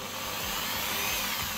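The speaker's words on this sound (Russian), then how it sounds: "дрель, поставил на маленькие обороты" An electric drill clamped in a small vise whirs steadily at low speed while a broken spinning rod is being repaired, a continuous close motor hum and buzz with no speech.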